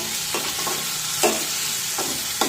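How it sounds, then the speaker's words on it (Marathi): Finely chopped tomato sautéing in a hot pan with ginger garlic paste, a steady close sizzle with a few scraping stirs of a spatula breaking through. "यामध्ये एक बारीक चिरलेला टोमॅटो टाकूया। परतून घेऊया।"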